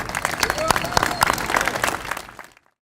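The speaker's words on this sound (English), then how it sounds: "If we can give a big round of applause" A room full of people applauds, a dense, lively patter of clapping with some voices mixed in, tapering off and ending abruptly near the close.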